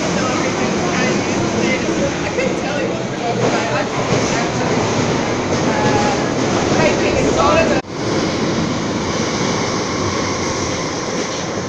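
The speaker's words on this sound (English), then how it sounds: "Line trains just rush past." A train roars past close by with loud rushing rumble and rattling wheels, a sharp break in the noise midway, then continuing clatter, on a line with overhead cables near Acton depot.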